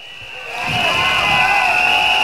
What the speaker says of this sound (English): A rousing applause for Mr. Ong Ye Kung.